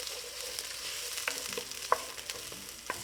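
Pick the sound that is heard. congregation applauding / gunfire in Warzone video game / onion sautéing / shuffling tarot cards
onion sautéing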